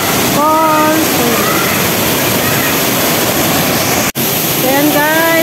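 A waterfall in Hong Kong Park pours as a loud, constant rushing wash of water, with birds chirping briefly and a person talking over the roar.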